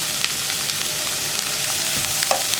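Onion with turmeric powder and green chilli frying for an onion egg thoren, a loud continuous sizzle with repeated spoon stirring and scraping against the pan.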